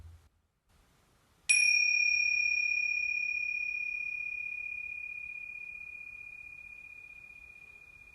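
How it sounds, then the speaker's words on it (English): A tingsha bell is struck once after a near-silent pause, giving a bright, clear ding that rings as a sustained pure tone and slowly fades toward silence over several seconds. "just like this tingsha bell I'm going to ting here now"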